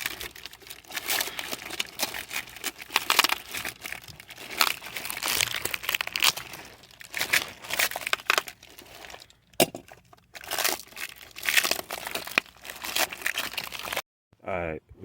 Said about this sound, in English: So I'm gonna take these out the packaging.